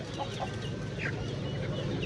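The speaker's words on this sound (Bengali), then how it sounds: "আর এখানে একটা মোরগের কালেকশন আছে বিগ সাইজের।" A big rooster clucks in short bursts at the busy Tongi pigeon market, heard over a steady crowd murmur and market bustle.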